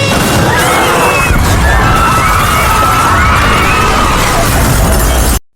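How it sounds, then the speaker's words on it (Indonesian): A loud, sustained bomb blast roar with crashing debris and noise fills the whole clip, then cuts off abruptly. "dan ledakan itu terjadi"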